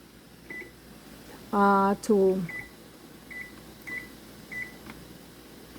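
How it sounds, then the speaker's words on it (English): A kitchen timer being set while preparing steamed cheese puto cupcakes, giving a few short, faint electronic beeps spaced through the clip, with a brief voice heard near the middle. "Okay, so I'll have to set my timer"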